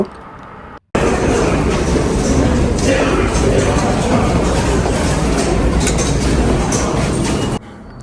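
An empty train at its last stop gives a loud, steady interior rumble of rolling wheels and engine hum that begins abruptly and cuts off near the end, with a voice speaking over it.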